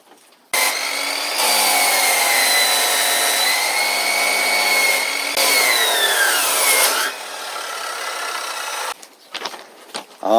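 A cheap Chinese-made hacksaw drawn steadily back and forth through metal to shape a homemade knife, a loud, continuous rasping saw sound up close that pauses briefly partway through, with no talking.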